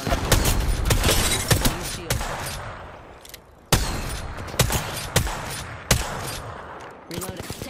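Rapid gunfire in an Apex Legends match, dense bursts of automatic shots and sharp single cracks close and loud, with a few heavier impacts spaced through the exchange.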